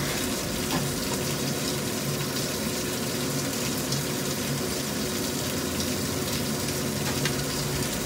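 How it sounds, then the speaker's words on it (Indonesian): Chicken wings fry in hot oil with a loud, dense, continuous hiss and crackle that stays steady throughout, with no voices. "dan cara menggoreng sayap ayamnya itu seperti ini"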